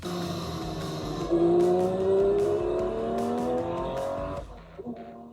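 A Porsche 911 S/T with a manual gearbox revs its engine in a loud, close rising roar that climbs in pitch, holds, then drops away to a lower idle with a few short blips.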